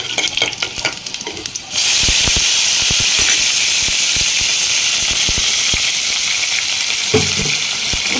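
Onions drop into hot oil with cumin seeds, coriander seeds and dried red chillies for a bitter gourd and tomato curry, bursting into a loud, steady sizzle after a quieter start, with a few stirring scrapes.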